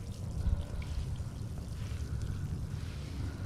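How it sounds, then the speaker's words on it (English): Water hosed across a paver walkway, soaking down into joints filled with polymeric sand, making a steady close splashing and trickling wash that runs continuously without pause. "all this water is going to flow down the joints"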